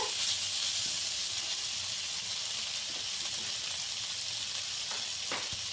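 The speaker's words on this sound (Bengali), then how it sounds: "এখন আমি এটাতে জল দিয়ে দিলাম" Water poured into frying egg curry masala, giving a steady bright sizzle and hiss that holds throughout, with a few faint clicks near the end.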